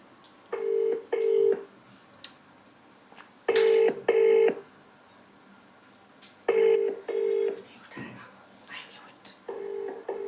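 Repeated paired touch-tone beeps of a phone being dialed, in short bursts spaced a few seconds apart, with faint whispery background sounds.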